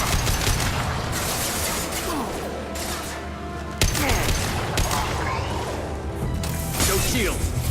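Gunfire in Mass Effect 2 combat: rattling bursts of weapon fire with mechanical clatter and sharp cracks, loud and close, one hard impact near the middle.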